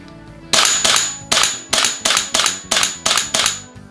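A GBLS DAS GDR-15 electric gas blowback airsoft rifle fires a series of eight loud, sharp reports in a steady rhythm, each with a metallic bolt slam, close up with no talking.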